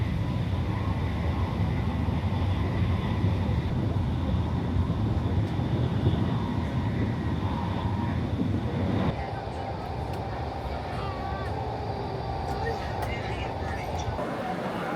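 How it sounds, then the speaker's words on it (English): A train rumbles steadily, its roar dropping and changing tone partway through as it enters a series of long mountain tunnels near Badaling on the way from Beijing to the Great Wall. "with the train entering a series of long tunnels"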